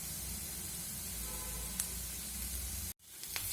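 Curry leaves frying with onion and garlic for a Mangalore-style salted jackfruit sukka make a loud, dense, spraying sizzle. It cuts out abruptly near the end, then returns softer.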